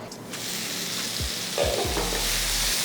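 Food stirred in a hot pan, a continuous sizzle with a few soft scraping strokes and a low rumble near the end, close and fairly quiet, without any talking.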